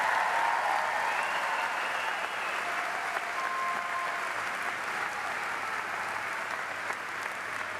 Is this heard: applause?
yes